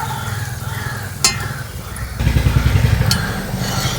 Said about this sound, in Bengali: দু পিঠ এইভাবে লাল লাল করে ভেজে নিয়েছি